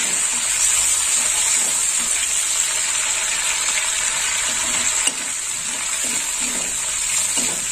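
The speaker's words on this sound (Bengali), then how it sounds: "কারি পাতাটা একটু ভেজে নেব, হালকা করে ভেজে নেব।" Curry leaves frying lightly in hot oil after prawns are taken out, giving a bright, continuous hissing sizzle with faint stirring, loud and close, with no talking.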